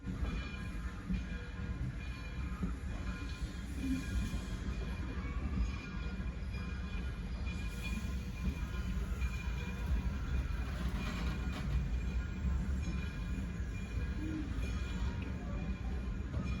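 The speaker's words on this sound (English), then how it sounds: "we got on the 1630, seeing some parts of the museum as we departed" Museum steam locomotive 1630 pulls out with passengers aboard, giving a steady, heavy low rumble and rolling clatter heard from inside the train, with no pauses over the whole stretch.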